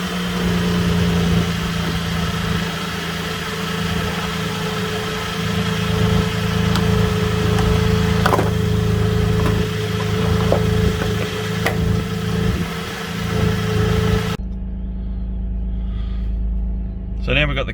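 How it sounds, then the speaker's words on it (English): A Holden VZ Commodore engine idles just after starting, a steady close rumble with a faint hum and a few light clicks before it cuts off near the end. "So now we've got the car started."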